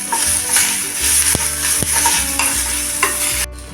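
Sautéed ivy gourd stirred as it fries in a pan, close sizzling under a series of scraping, knocking spoon strokes, steady throughout and ending abruptly, with no voices.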